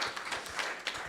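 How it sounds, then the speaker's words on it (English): Audience applause for the panelists at an America Salutes You brain and mental wellness event, with a dense, steady patter of many hands clapping, moderately loud and continuous throughout. "May we have a round of applause for the panelists."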